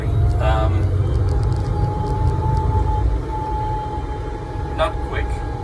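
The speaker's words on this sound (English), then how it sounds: "Louder than I'd expect for an electric car," A Citroën Ami electric car driving, a steady loud broadband road and motor rumble with a sustained tonal whine running through, fairly close and continuous with no pauses.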